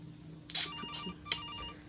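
A telephone rings in the Case Animatronics horror video game, two clear repeated electronic ring bursts with a tonal tail, quiet and a bit distant against a low background hum.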